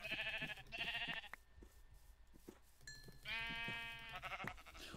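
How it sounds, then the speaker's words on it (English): Minecraft sheep bleating, several wavering calls in a row, two short ones at the start and a longer one later, loud and clear against quiet game background sounds. "Sheep! Sheep! Come to me!"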